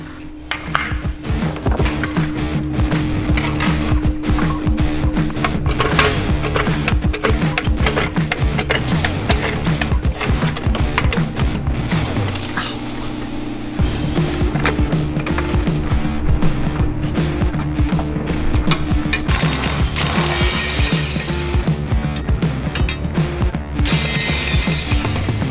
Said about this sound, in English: And then I'll take off the other 2 bolts.